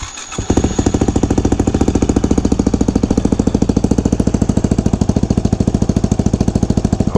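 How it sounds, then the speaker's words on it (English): A 2009 Yamaha WR250X motorcycle fitted with an FMF header and Yoshimura slip-on exhaust fires up from cold, then settles into a loud, close, rapid and steady single-cylinder thumping idle with no talk. "a cold start on a 2009 Yamaha WR250X with an FMF header and Yoshimura slip-on exhaust"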